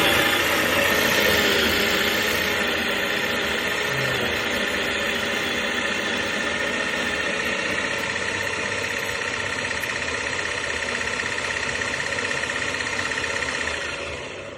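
A coffee grinder for a Rancilio Silvia espresso machine runs steadily and loudly for about fourteen seconds, a continuous dense motor whir that cuts off abruptly at the end, with no voices.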